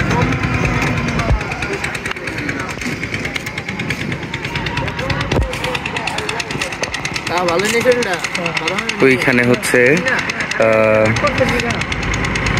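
An irrigation water pump engine beside fields and a river runs loudly and continuously with a rough, knocking drone, while someone talks over it.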